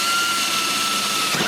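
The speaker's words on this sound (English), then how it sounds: "we'll just drill one hole." A power drill whines steadily and loudly while boring a hole to mount a Z06 Z07 conversion wing on a C8 Corvette, a continuous close-up drone with no talk.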